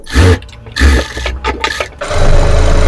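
An electric sewing machine stitching a frock strap in bursts: a short whirring run, a pause, another run, then a longer continuous stretch at the end. The sound is close and loud.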